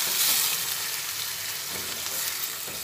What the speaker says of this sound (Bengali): জল দিয়ে আবার ভালোভাবে নাড়াচাড়া করে দিই।